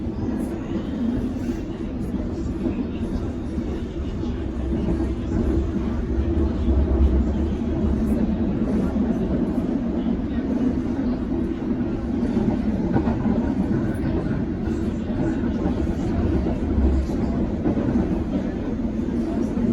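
A continuous low rumble of a London Underground train in motion, heard from inside, with steady mechanical roar and rattling that persists evenly throughout.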